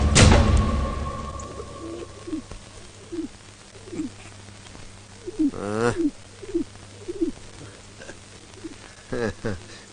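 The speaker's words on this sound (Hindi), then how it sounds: "ये पंछी ससुरा अमरपुर से उड़कर आया लगता है, जो खिलावे उसी के सर पे हकता है" A pigeon coos repeatedly in a series of short rising calls, spaced roughly a second apart and heard at moderate distance over a steady low hum, with a louder burst of mixed noise at the start.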